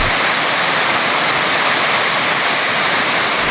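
The waterfall at Isang Falls pours with a loud, dense, unbroken roar, heard very close and constant throughout with no voices over it.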